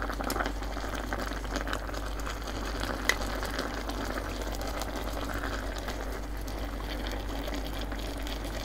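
Beef and vegetable sukiyaki broth boils steadily in a pot, a continuous close bubbling texture with no one speaking over it.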